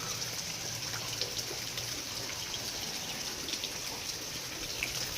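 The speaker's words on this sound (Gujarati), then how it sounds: "ચાલો તો અહીંયા વરસાદ ચાલુ થઈ ગયો છે." Rain falling steadily outdoors, a dense, even hiss of drops with no pauses, moderately loud and continuous throughout, with no voices.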